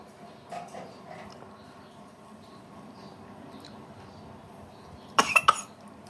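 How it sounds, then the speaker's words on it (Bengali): A quick cluster of three sharp, close coughs after eating red chilli breaks a quiet room near the end, following several seconds of faint background shuffling. "খাস না খাস না, কাশি হচ্ছে কাশি হচ্ছে কাশি হচ্ছে"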